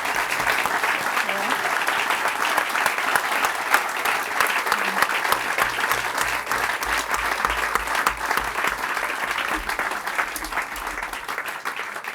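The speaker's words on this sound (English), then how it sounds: "So can we please have a round of applause for Alec MacGillis?" Sustained applause from a lecture audience fills the room, dense and steady for several seconds, with faint speech underneath.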